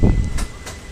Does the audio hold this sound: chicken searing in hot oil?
no